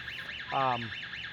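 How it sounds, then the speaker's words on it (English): A brief harmonic honking beep, loud and close, sounding once for under half a second over a steady warbling electronic whine: the startup alarm of a Lift Hero CPD30 6,000 lb electric forklift. "There's your alarm you can hear."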